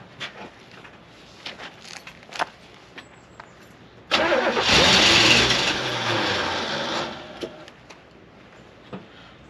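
A rough, long-neglected 1967 Camaro's starter cranks on the turn of the key after a few clicks, rising into a loud, rattling burst that holds for a couple of seconds before easing into a lower, uneven run.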